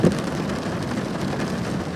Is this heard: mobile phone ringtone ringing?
no